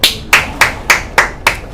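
Six sharp hand claps in a steady, evenly spaced rhythm, close and loud, with no voices.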